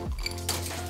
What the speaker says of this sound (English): We're going to add some more ice cubes